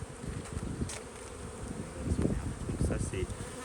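Honeybees buzz steadily around a newly installed hive in a small apiary, a dense close swarm hum that swells and thins as individual bees pass near.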